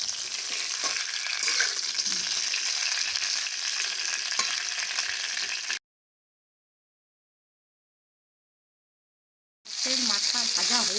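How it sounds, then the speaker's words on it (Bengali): Katla fish heads fry in hot oil, sizzling and crackling loudly up close with stirring noises, then a few seconds of total silence before the sizzle returns. "এখন মাছের মাথাগুলো একটু ভেজে নিব।"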